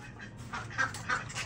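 A turkey and other caged birds give a few short, nasal calls at close range while being herded into their cages, over a low background rumble.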